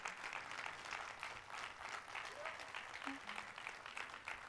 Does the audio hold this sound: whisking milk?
no